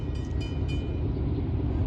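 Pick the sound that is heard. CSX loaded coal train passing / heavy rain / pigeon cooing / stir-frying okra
CSX loaded coal train passing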